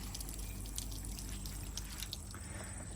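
Irrigation water running and dripping off a planted living wall, a steady close trickle with scattered drips over a constant low rumble, no voices.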